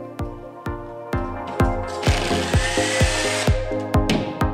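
A power drill bores holes into a wall for mounting rails, giving a close run of sharp, evenly spaced clicks and bursts over a steady buzzing whir that swells slightly midway.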